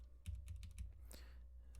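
Keys on a computer keyboard pressed several times in quick succession, close and fairly quiet, with clicks clustered early and a few more scattered afterward, no voice.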